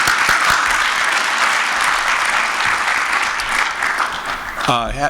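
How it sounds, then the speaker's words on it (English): Audience applause at a county association legislative conference opening session, a dense, loud, sustained clapping that continues steadily before a voice begins speaking at the very end. "So let's give a little applause on that, huh?"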